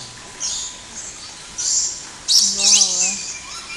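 Pet parrots calling and chirping near people, with high shrill squawks in bursts and a short warbling call, over background voices.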